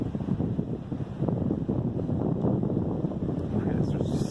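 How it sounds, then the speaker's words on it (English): Wind gusts steadily through a forest wetland in Salem Town Forest on a day after a windstorm, a loud, continuous low rumble with microphone buffeting and no speech. "Still windy."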